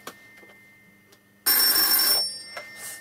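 A telephone bell rings once in a loud burst of under a second, then fades, with quiet background before and after and no talk.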